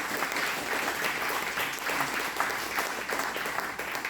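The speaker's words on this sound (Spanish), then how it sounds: "Dale un aplauso al Señor con todo tu corazón." A church congregation claps for God during a sermon service, a continuous, steady roar of many hands filling the room at moderate volume throughout, with no talking over it.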